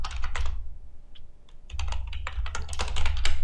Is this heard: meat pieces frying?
no